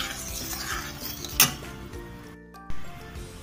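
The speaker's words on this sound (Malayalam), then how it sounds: "ഇനി ഇത് നന്നായിട്ട് മിക്സ് ചെയ്ത് കൊടുക്കാം." Vattayappam batter being mixed with jaggery syrup in a bowl, with soft scraping stirs and a few sharp spoon clinks against the bowl, close and quiet, with no talk.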